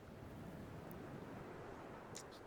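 Steady wind blowing through the game Dear Esther, a constant broad rush with no gusts, moderately loud and alone, with a couple of faint high ticks near the end.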